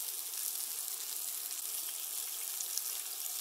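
Potatoes and onions fry in a pan at a remote walleye fishing camp, producing a steady, close, dense crackling sizzle throughout with no talking.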